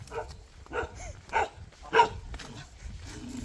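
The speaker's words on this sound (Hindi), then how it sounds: "कैसा डॉगी है, अपने घर में डर रहे हैं" A dog at a house in a mountain village gives a few short, nervous barks and yips in quick succession. The sound comes from a moderate distance over faint background noise.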